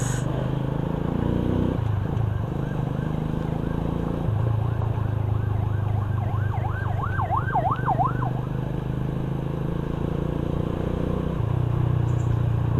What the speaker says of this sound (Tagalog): Ambulansya, pulis.